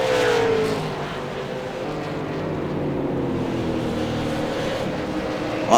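A late model race car in the SRST Pro Series at Lucas Oil Raceway crosses the start-finish line into turn one, its engine a loud sustained drone that dips slightly and then holds steady, with no one talking.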